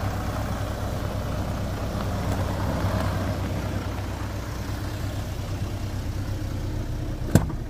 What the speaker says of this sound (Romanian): Dar și cu tractorul ăsta, unde mergi cu tractorul ăsta?